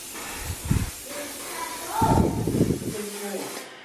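A can of fixing spray is sprayed onto dried pampas grass in a home, giving short hissing bursts that swell into a longer spray, with someone talking over it.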